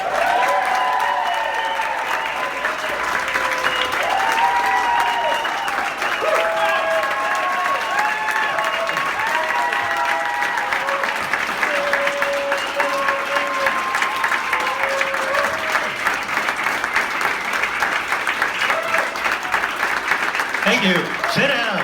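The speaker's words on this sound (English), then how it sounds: "let's do a big round of applause for Rick Baker, man" A live audience gives a sustained round of applause for a guest introduced on stage: loud, continuous clapping with cheers and shouts mixed in for over twenty seconds.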